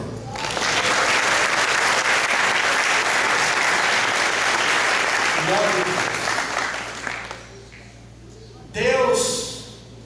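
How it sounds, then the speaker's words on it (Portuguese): A church congregation applauds the Lord at a worship service, a dense, sustained wave of many hands clapping for about seven seconds, then tapering off before a brief louder sound near the end. "Aplauda o Senhor."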